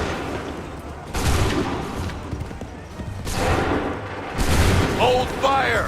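Musket volleys crack out in Assassin's Creed 3, several loud ragged bursts of massed gunfire spaced a second or two apart, mixed with battlefield noise and shouted voices.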